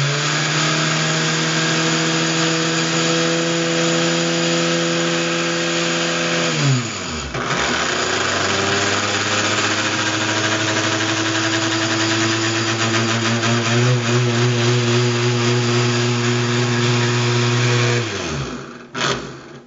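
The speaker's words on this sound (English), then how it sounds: "I'll show the cab rotating in both clockwise and counterclockwise direction" Portal gantry crane cab slewing clockwise, then counterclockwise, giving a loud, steady motor whine and hum that drops briefly near the midpoint as it reverses, then winds down and stops at the end.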